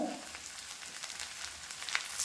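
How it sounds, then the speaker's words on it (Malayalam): Shallots and dried red chillies frying in oil for a leafy thoran, a soft, steady sizzle with faint crackles and light pops, heard alone and fairly quiet. "ചെറിയ ഉള്ളി മൂത്ത് കഴിയുമ്പോൾ നമ്മൾ വറ്റൽമുളക് ഇടുന്നു"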